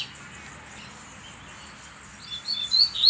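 A double-collared seedeater (coleiro) gives a few short high chirps near the end, faint at first and then louder, over a steady hiss of background noise.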